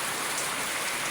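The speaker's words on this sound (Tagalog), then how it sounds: "Walang tigil ang ulan sa Maynila." Steady rain pouring in Manila, a dense even hiss of drops falling on surfaces, close and continuous with no voices.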